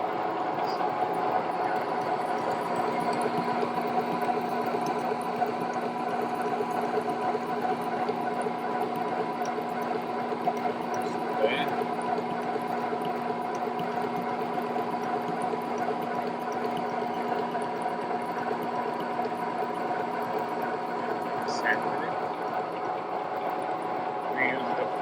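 A large lathe machining a shaft in a workshop hums with a steady tonal drone throughout, a continuous mechanical whine with a few faint clicks and no pauses.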